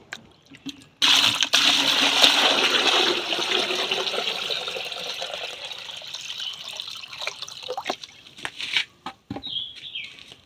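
Ten litres of filtered water gush steadily into a sprayer tank for several seconds, then slow and stop, followed by a few brief knocks and splashes.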